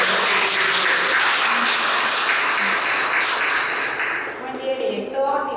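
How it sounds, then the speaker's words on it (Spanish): Applause fills a school's start-of-year ceremony as a dense, steady wash of clapping that fades slightly toward the end, with a voice briefly emerging. "¡Fuerte los aplausos!"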